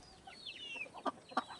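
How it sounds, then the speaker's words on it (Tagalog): A free-range Sasso chicken gives two short, faint clucks near the end of a brief, quiet stretch. "yung tinatawag na na saso. Yung yung klase ng manok."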